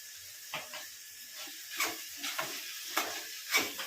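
Salt being stirred into vegetables in a pan for semiya upma: a handful of soft scraping spoon strokes with faint hissing between them, quiet and close.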